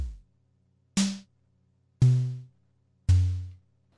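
A 1985 Tama Techstar TS305 electronic drum kit with snare, two toms and kick pads triggering its voice module: four separate synthetic drum hits, evenly spaced about a second apart, each a sharp electronic thump with a short pitched decay, over a faint hum.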